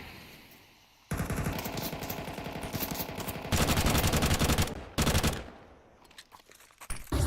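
Gunfire in a Counter-Strike match, bursts of rapid automatic shots in several loud volleys separated by short pauses, with a few scattered single shots at the end.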